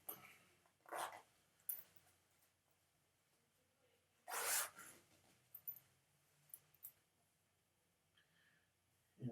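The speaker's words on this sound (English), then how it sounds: "now I can unzip it" A garment zipper being unzipped while sewing a neckline with a two-zipper closure, heard as a few short, sharp rasping pulls, with one louder longer zip in the middle and quieter ticks around it, close up with no talk.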